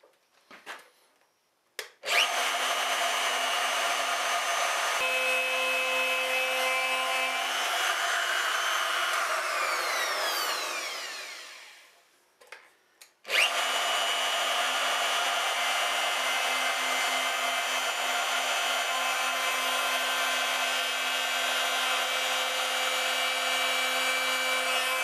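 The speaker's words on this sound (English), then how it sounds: "we'll just take the big router and take a couple of passes just to drop that down" A large router cuts a recess about 6 mm deep into a Rickenbacker 620/12 guitar body, guided by an MDF template. A loud, steady high whine runs for most of the clip, winding down midway, then spinning back up and continuing alone.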